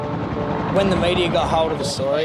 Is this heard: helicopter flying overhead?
yes